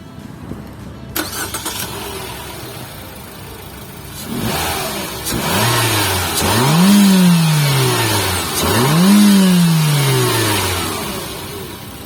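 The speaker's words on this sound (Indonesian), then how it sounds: "Kalau gitu yuk kita startup dulu." A Mitsubishi Xpander Cross car engine cranks and catches, then settles before being revved twice in rising and falling surges, loud and close with no talking.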